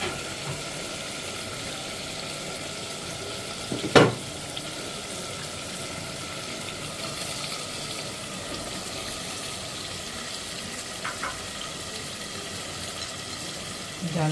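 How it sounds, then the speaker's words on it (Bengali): Rohu fish head frying in spice masala for Bengali muri ghonto, a steady low sizzle in the pan with a sharp clatter near the middle and faint utensil knocks later. "মশলাটা কষানো হয়ে গেছে, মাছের মাথাটা দিয়ে দেবো।"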